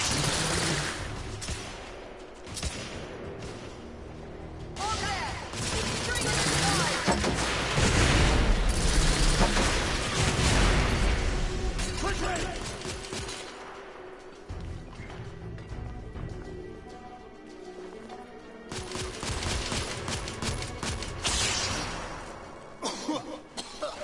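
Heavy gunfire and explosive booms in the video game The Order: 1886, dense and loud throughout with rolling bursts and brief lulls, a busy battlefield mix under intermittent voices.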